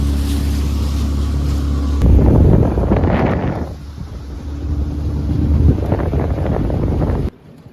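Loud wind buffets the microphone over the drone of a moving bass boat's motor, with gusts rising and falling before the sound cuts off abruptly.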